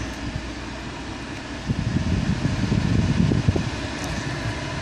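Steady broadband whoosh of the air conditioning fan blowing at full speed with the temperature set to coldest inside a 1999 Bentley Arnage twin turbo V8, a continuous close rush with slight rises midway and no talk.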